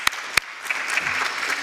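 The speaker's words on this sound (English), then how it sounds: "Let's applaud him." An audience at an evening lecture event breaks into applause, a couple of sharp claps first and then a brief, dense wash of clapping from the room.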